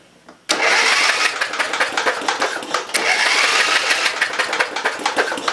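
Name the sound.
11HP Briggs & Stratton engine test-cranked with a starter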